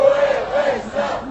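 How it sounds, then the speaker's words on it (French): A growing crowd fills République during a Nuit Debout demonstration, a steady murmur of many voices with a few raised calls rising and falling over the open square, no single speaker standing out. "Donc la foule commence à vraiment s'agrandir."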